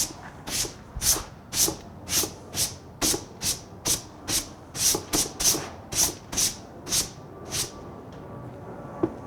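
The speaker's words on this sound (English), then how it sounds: "we'll come back in with a whisk broom and soften all this stuff up" A whisk broom brushes over a faux oak paint finish in a rhythmic series of about fifteen close, crisp swishing strokes that stop near the end, with no talk.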